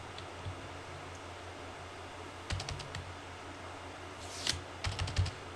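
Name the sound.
typing on a computer keyboard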